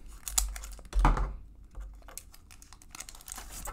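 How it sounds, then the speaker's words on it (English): Scissors cut open the foil wrapper of a 1992 Donruss baseball card pack with close crinkling and snipping, one louder burst near the start, then softer rustling and handling of the pack. "I'm gonna probably use my scissors to cut all of these open."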